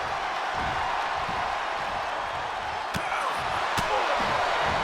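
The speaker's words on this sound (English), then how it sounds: "Drop kick." A drop kick lands in the WWE 2K23 wrestling video game, Jerry Lawler's match, with two sharp slam impacts a second apart cutting through steady arena crowd noise.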